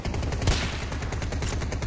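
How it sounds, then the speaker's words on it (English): Gunfire in the video game Battlefield 2042, a loud, dense burst of rapid shots close up with one sharper crack near the start, filling the whole short stretch. "There's a shot from the left side here."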